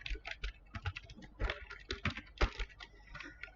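Rapid keystrokes on a computer keyboard as commands are typed into a network switch configuration, with irregular clicks and a few heavier key strikes like the Enter key, close and clear with no talking.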